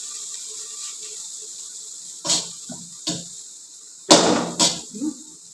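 Cabbage sizzles on an oiled dosa griddle with a steady, soft hiss, broken by a few sharp clattering bursts near the end. It is heard close up with no speech.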